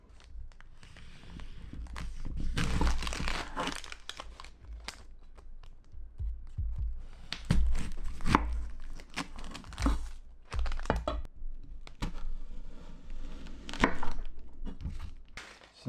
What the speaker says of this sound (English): chop it in half and peel the onion